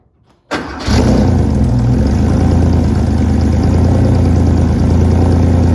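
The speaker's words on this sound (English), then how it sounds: "The car starts out really cold. We're gonna let it warm up" A Porsche Carrera 3.2 engine cranks and catches from cold after a moment of quiet, then settles into a loud, steady idle close by.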